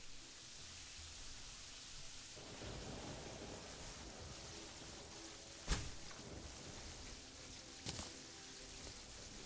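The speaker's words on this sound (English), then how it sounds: "Oh my goodness, it's raining!" Rain falls in the video game Terraria as a soft, steady hiss that swells after a couple of seconds, broken by two sharp thunder cracks, one louder than the other, all fairly faint.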